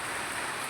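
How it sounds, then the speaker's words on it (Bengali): Heavy rain pouring down outdoors, a dense, even wash of falling water with no breaks, brief and steady. "এই বৃষ্টি আমি শুনছি"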